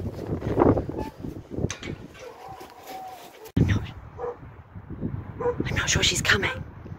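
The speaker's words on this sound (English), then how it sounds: "The dog's heard me." A dog barks and yips from behind a closed door in a few bursts, mixed with people talking nearby.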